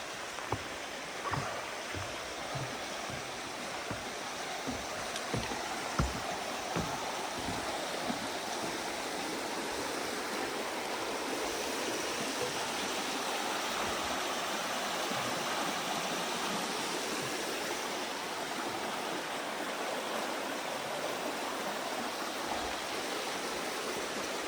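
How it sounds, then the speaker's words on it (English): A creek along the Appalachian Trail flows in a constant broadband rushing wash, steady and fairly close throughout, with no voices. "I'm right here at this creek, across this creek"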